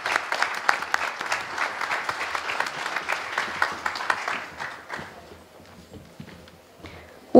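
A roomful of people applaud at a book and music album launch ceremony in Kansas City, steady dense clapping for about five seconds before thinning out and fading, with no talk over it.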